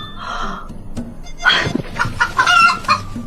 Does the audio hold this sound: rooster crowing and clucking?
yes